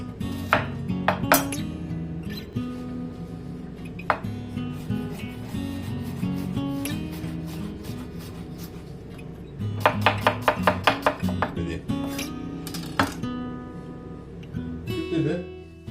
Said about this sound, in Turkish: Bunları yarım ay şeklinde doğrayacağız.